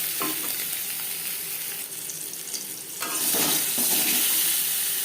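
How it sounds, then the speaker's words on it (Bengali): Eggs fry in a hot wok with a loud, steady sizzle that swells stronger toward the end, with no talking. "ডিম লাস্ট করে ভেজে নিয়েছি"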